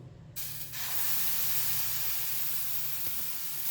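Green gram dosa batter spread onto a hot tawa sizzles in a loud, steady hiss that starts abruptly and carries on unbroken, close up and alone.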